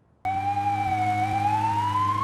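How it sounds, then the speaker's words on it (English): A wailing ambulance siren sweeps slowly up and down, loud and continuous over a low engine rumble, starting abruptly after a brief quiet moment. "Oh no, an ambulance is coming."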